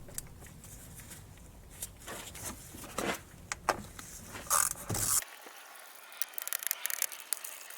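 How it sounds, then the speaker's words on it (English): Bolts being loosened on the EGR valve and inlet manifold of a Jaguar X-Type 2.0L diesel, irregular metallic ratchet clicks and tool clatter at close range, fairly quiet, then sparse clicks after a sudden drop in background noise. "Loosen all the bolts off."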